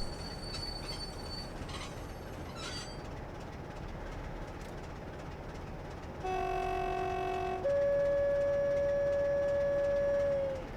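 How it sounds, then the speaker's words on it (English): An HST train horn in Train Sim Classic sounds two long tones, one after the other, loud and close over the steady rumble and wheel noise of the moving train, with no one talking. "That's definitely a weird horn."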